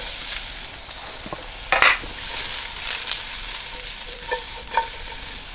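Shallots hiss and sizzle as they fry in hot oil in a pan, with a utensil stirring and scraping them close by, steady crackling and a few sharper clicks, no voices.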